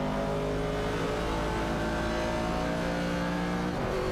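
Racing video game cars, a 1970 Pontiac Firebird and a 1970 AMC Javelin among them, engines droning and revving continuously in a dense layered roar, loud and constant with no talk.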